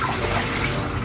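Tap water runs hard and steady, washing peeled cassava (tapioca) for cooking, a loud close continuous rush with no talking.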